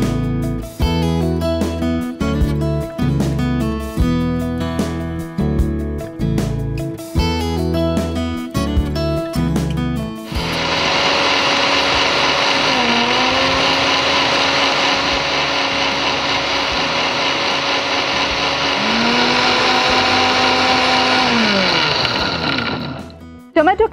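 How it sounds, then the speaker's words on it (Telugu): A mixer grinder blends a cooled tomato and carrot mixture for ginger soup, a loud steady motor whine running continuously for over ten seconds with a brief dip in pitch partway, after a stretch of music. "ఇప్పుడు మిక్సీ పట్టుకుందాం."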